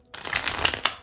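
Tarot cards shuffled up close, a brisk papery riffle with crisp slapping accents, heard alone and fairly loud.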